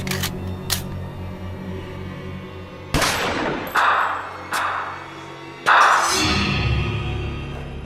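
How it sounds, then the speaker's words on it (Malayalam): Several sharp, loud gun-like bangs ring out one after another with pauses between them, each followed by a brief echoing decay, over a low background hum. "നമുക്കൊന്ന് വെടിവെച്ച് നോക്കാം അല്ലേ?"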